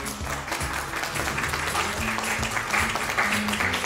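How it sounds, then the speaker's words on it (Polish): An audience at a local event applauds steadily for a few seconds, a dense wash of clapping with faint music or voices underneath. "Wielkie brawa."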